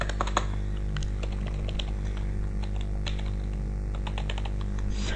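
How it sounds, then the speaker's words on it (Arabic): A customer name is typed into accounting software on a computer keyboard, with quick, irregular close key clicks running throughout over a steady low hum. "اسم العميل نقوم بإدخاله عبد الرحمن"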